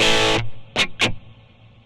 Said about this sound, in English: the level will bring up the mix of the reverb compared to the original signals